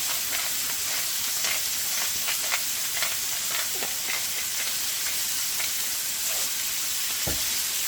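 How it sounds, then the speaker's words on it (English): Onions seasoned with garlic salt and pepper sizzle and fry in a pan for a pot roast, a steady dense crackle with scattered pops and a brief stir near the end, no talking. "make sure you get your onions all nice and golden brown"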